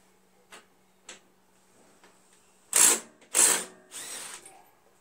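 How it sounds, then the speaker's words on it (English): A power tool works a half-inch wheel bolt off the axle of a Toro Wheel Horse 1238XL lawn tractor, running in three short, loud bursts after two faint clicks, with no talking. "Taking this wheel off is a lot easier than the rest of them because this is just a half-inch bolt that's onto the axle"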